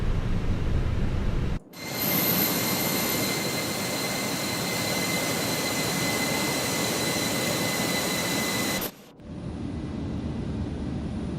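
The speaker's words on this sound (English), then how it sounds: "All right, spooling 1." A Fenix A320 engine spools up in the MSFS 2024 flight simulator, a loud broadband roar with a steady high whine that holds for several seconds before cutting back to a quieter background hum.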